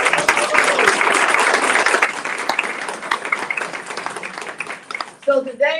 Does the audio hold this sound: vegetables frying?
no